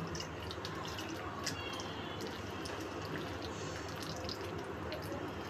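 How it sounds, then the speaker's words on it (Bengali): Water poured into a cooking pot, a continuous soft splashing and trickling with small drip-like spatters, steady and moderately close throughout. "এখন আমি এর ভিতর সামান্য পরিমাণ জল দিয়ে দেব।"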